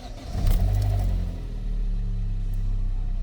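A 2006 Vectra-C with a Z18XER engine starting and settling into a steady idle, a brief rise in revs near the start and then a continuous low engine drone, close by with no talking.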